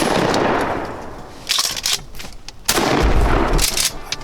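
Two loud, close shotgun blasts from a turkey hunt, fired about a second apart after a countdown, each followed by a booming outdoor echo.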